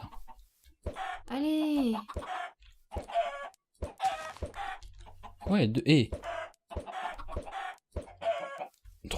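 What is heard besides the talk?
chickens clucking in a video game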